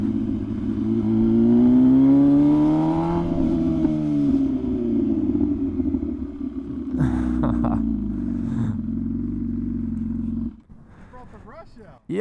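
A motorcycle exhaust mounted right by the rider's ear roars loudly as the engine revs. The pitch rises and falls over several seconds, then the engine settles toward idle.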